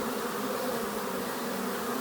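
Honeybees buzzing at a hive entrance, a dense continuous hum of many insects close by, steady and unbroken with no talking.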